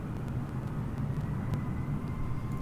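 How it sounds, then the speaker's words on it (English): A plane taking off or taxiing in Microsoft Flight Simulator, a steady low engine rumble and drone, continuous and fairly loud, with no talking. "I can hear a plane taking off,"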